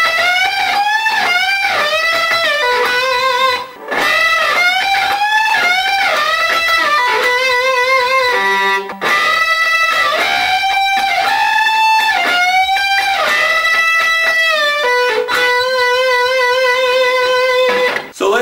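Electric guitar playing double-stop bends, loud and clean, with paired notes repeatedly bent upward in quick rhythmic phrases separated by brief pauses.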